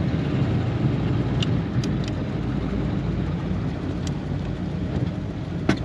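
A 1938 Ford Deluxe Sedan with its flathead V8 idles steadily, a low, even rumble that holds close and unchanging, with a few faint clicks on top and no talk.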